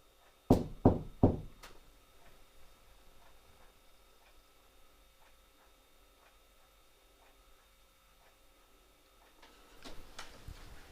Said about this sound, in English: Can you knock like this?